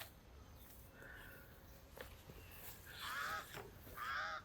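Harsh, crow-like calls of a kingwa bird outdoors on a nature walk, with a few faint calls early on, then two louder, closer bursts near the end over quiet background hiss.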